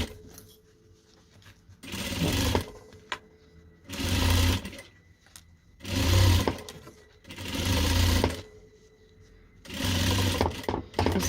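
Sewing machine stitching a fabric double scissor holder, running in five distinct bursts of about a second each separated by brief pauses, close and loud.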